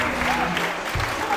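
A parkour championship finals crowd applauds athlete Agnes with a burst of steady clapping as a commentator talks over it.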